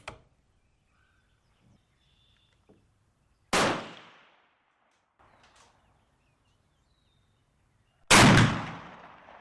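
Rifle firing a test cartridge with a thickened rim, two sharp loud outdoor gunshots several seconds apart with echoing decay, separated by quiet and soft bolt-handling clicks.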